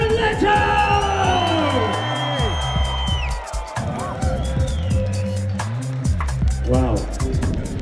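A London audience at the Odeon cheers as Jared Leto comes on stage, with loud sustained yells, whoops and screams from many voices over a steady rhythm of claps or stomps, close and filling the hall.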